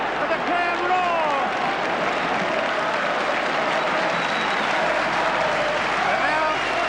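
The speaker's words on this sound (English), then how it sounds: "And now they remember to applaud their team who've done so well." Crowd at a 1986 rugby league match between St Helens and Australia applauds steadily throughout, a dense sustained wash of clapping with scattered whistles and shouts, fairly loud and continuous.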